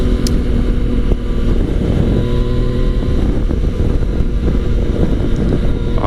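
A 2017 Yamaha FJ-09 motorcycle with an Akrapovic exhaust, ridden at a steady cruise, gives a continuous engine drone mixed with heavy wind rush across the microphone, loud and unbroken throughout.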